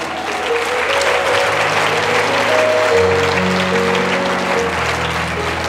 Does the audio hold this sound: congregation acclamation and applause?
yes